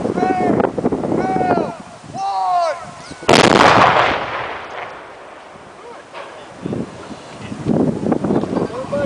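A loud C4 and det cord blast with diesel fuel goes off sharply, then a long rumbling wash rolls off into the distance. People talk before it, and voices return afterward.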